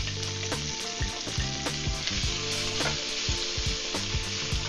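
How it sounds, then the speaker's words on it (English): Onions hit a pan alongside cheesesteak meat and fry with a loud, constant sizzle, while a utensil knocks and scrapes against the pan in a fairly regular rhythm. "Onions are going in."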